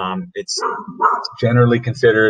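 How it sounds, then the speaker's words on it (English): A dog barks in short, loud, close yaps while someone speaks over and between them. "that was my dog"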